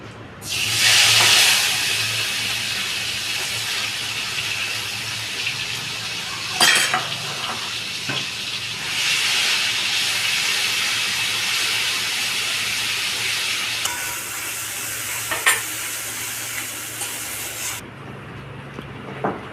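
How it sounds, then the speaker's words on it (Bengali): Cumin seeds hiss and crackle in hot oil for tempering, with a steady loud sizzle, occasional stirring scrapes and brief sharp spits. "আমি একটু জিরে ফোড়ন দিয়ে দিচ্ছি"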